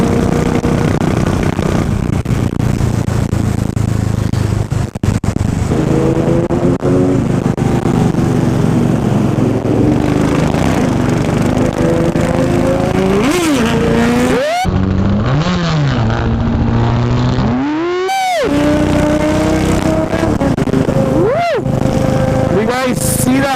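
Sport bikes ride past on the road, their engines rising and falling in pitch through several close passes over a constant loud wind and engine roar, with a few sharp whining sweeps toward the end.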